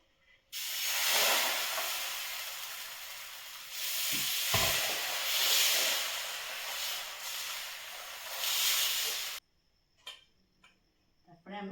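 Chicken patishapta batter hitting a hot tawa brushed with a little oil sets off a loud, close sizzle that surges and fades for about nine seconds, then cuts off abruptly, leaving a few faint clicks and handling noises.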